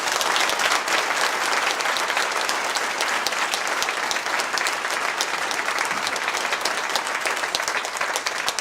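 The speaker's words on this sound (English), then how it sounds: "give them a warm round of applause" A hall audience at an African humanities academic event gives a long, dense round of applause. It stays steady and full throughout, with no break and almost no voices.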